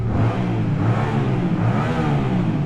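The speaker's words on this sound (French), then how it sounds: "Voilà, c'est le son d'origine," Yamaha Tracer 700 motorcycle (2020/21) with its stock exhaust, revving beneath a bridge: a steady, fairly loud mid-pitched engine drone with slight rises and no talking.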